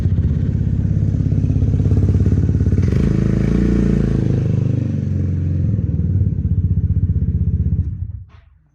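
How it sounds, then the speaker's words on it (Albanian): A Yamaha X-Max 400 scooter with a Krapovic sport exhaust and 26,000 km runs steadily close by, a loud, deep, throbbing engine note that holds for about eight seconds and then quickly dies away. "motori është në gjendje perfekte, ndez."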